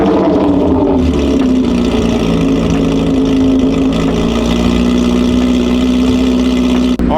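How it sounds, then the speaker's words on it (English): A Chevrolet Corvette C8 Z06 engine starts and settles into a loud, steady idle with a strong low drone that stays close and constant. "So let's fire up this engine."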